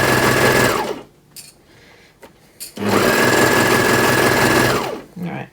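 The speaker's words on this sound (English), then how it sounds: "I like the sound of this machine. It's nice and quiet." A quiet domestic sewing machine sews darts on a plus-size dressing gown, running in two loud close bursts of fast, steady whirring with a short pause between them and a brief restart at the end.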